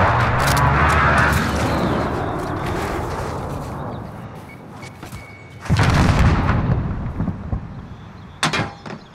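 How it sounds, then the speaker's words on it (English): Heavy booming blasts from an airstrike in Call of Duty: Modern Warfare during a hardcore team deathmatch on the Backlot map, loud rumbling explosions that roll continuously, with a sharp fresh blast near the middle and another near the end. "Friendly precision airstrike on the way."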